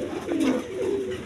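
A big-bodied pigeon pair, a red male and a yellow female of the coloured Raj Golla breed, gives a short, close, low coo with no voices over it.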